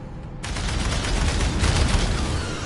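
ARC vehicle cannons in the sci-fi game Aliens: Dark Descent fire a dense, sustained burst of loud heavy gunfire that holds at full intensity throughout.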